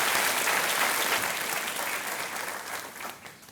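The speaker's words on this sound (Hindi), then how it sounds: "तालियों के साथ इनका स्वागत किया जाए।" A studio audience on a quiz show claps in welcome, a dense, even wave of applause that starts full and gradually fades toward the end.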